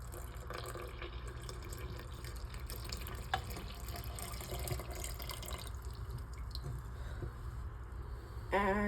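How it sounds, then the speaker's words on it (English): Water is poured into dry ingredients for croissant dough, giving a faint, continuous trickling and splashing over several seconds, close by and heard alone. "I have 3/4 of a cup plus 2 tablespoons of water here and half a cup of milk, which I'm going to pour into my dry ingredients"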